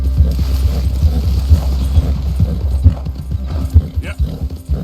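Steady clip-clop of horse hooves while riding in Red Dead Redemption 2, a regular close rhythm of hoofbeats with a brief whinny, under someone talking.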